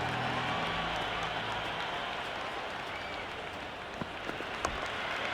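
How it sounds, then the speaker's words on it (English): A cricket stadium crowd in the video game Cricket 26 keeps up a steady, dense roar of cheering and applause, broad and unbroken throughout, with a few sharper claps near the end. "The crowd is electric right now."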